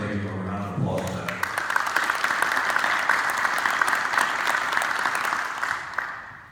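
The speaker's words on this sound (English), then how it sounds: "I'd like to give him a round of applause for that." A brief spoken line gives way to a full round of applause from an audience at a rural schools aid announcement, dense, steady clapping that holds for several seconds before tapering off.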